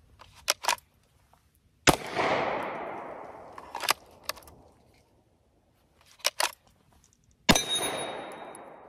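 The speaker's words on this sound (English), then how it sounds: "let's go ahead and shoot some rounds" Handgun shots ring out in a quiet outdoor setting after the pistol is drawn from a Blackhawk T-Series L3D light-bearing duty holster. Sharp, loud cracks come in small groups with pauses between, and some single shots leave a long decaying echo.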